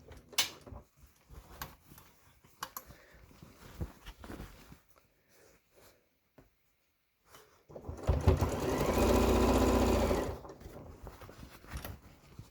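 A domestic sewing machine stitching repeatedly over the handles of a reversible tote bag made from fabric scraps: a loud, close, continuous buzzing run of about two seconds, preceded by quiet clicks, fabric handling and short mechanical bumps.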